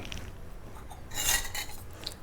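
A pressure cooker pot is set down on a kitchen stove, giving a brief faint metallic clank over quiet room noise.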